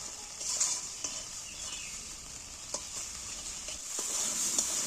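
Spice paste with salt is fried and stirred in a pan, a faint steady sizzle with a few light clinks and scrapes of the spoon, close by and quiet.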